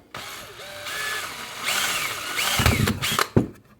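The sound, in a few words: Dremel drilling small holes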